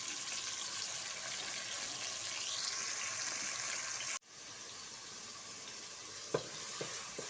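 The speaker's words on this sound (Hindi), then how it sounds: "प्याज को सिर्फ हम थोड़ा सा सौते ही करेंगे।" Onions sautéing in a pan for creamy chicken karahi, a continuous close hiss of frying that cuts out abruptly, then resumes with a few sharp clinks of a utensil, no talking.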